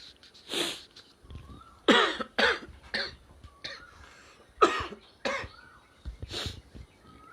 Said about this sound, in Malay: Anak saya batuk.